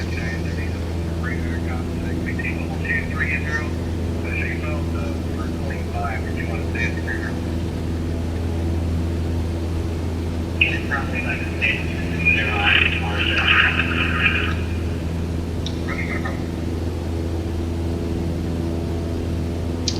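Cessna 152 light aircraft engine climbing with flaps coming up: a constant low droning hum heard from inside the cabin, with people talking over it throughout.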